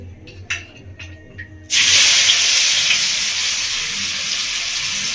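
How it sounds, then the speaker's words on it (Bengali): Sliced onion hits hot fish-frying oil with a sudden loud sizzle that stays steady and bright, preceded by a few light clinks and faint kitchen noises. "পেঁয়াজটাকে আমি মাছ ভাজা তেলের মধ্যে ভেজে নেবো"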